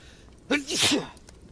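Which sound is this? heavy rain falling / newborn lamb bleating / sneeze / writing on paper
sneeze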